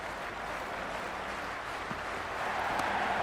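A stadium crowd in the Cricket 26 video game, a Brisbane Heat versus Hobart Hurricanes match, cheers as a steady, broad roar of noise that swells slightly toward the end.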